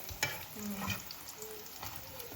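Laddu batter frying in hot oil gives a soft, steady sizzle and bubbling, faint and close, with a few light stirring clinks.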